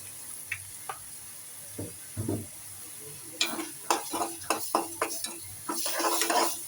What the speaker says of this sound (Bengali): দিয়ে এটাকে ভাজা ভাজা করে নিব